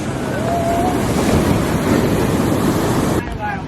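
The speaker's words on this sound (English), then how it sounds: "These waves is crazy." Ocean surf on a beach in Mexico, a loud continuous wash of breaking waves roaring close by with heavy wind buffeting the microphone. A voice briefly speaks over it.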